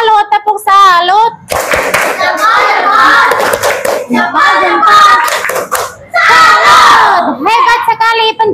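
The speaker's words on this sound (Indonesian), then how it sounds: "Kita kasih tepuk salut, tepuk salut." Group clapping breaks out in a classroom setting during a teacher performance assessment session, hearty applause in bursts with children's cheers and shouts mixed in, loud and close, with speaking voices around it.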